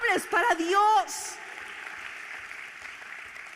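A church congregation breaks into steady, moderate applause just after a voice, the clapping continuing evenly for a few seconds.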